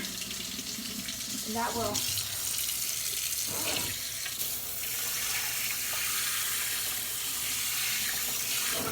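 The hottest tap water gushes steadily from a faucet into a sink, a continuous hiss that runs under brief spoken words.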